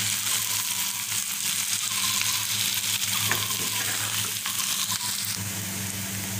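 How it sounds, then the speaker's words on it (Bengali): Onions frying in a pan, a loud, dense, steady sizzle close up with occasional soft scrapes from stirring, and no voices. "পেঁয়াজটা সিদ্ধ হওয়া পর্যন্ত এখন আমাকে একটু পরপর নেড়ে দিতে হবে।"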